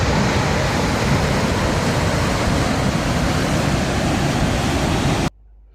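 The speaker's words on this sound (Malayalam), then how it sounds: "ഇങ്ങനെ സർക്കുലറായിട്ട് ഉള്ള ഒരു വേള് പോലെ വെള്ളം വന്ന് വീണുകൊണ്ടിരുന്നു" A steady, dense rush of water falling into a circular bowl at a waterfall in Johnston Canyon, Canada, roars loudly and evenly for several seconds, then cuts off abruptly into near silence.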